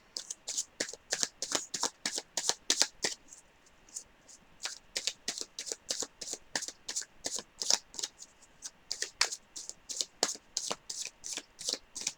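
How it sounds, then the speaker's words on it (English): Close, continuous tarot card shuffling, rapid papery riffles repeating in a steady rhythm with only brief gaps, no talking. "I'm going to shuffle for the clarifiers here"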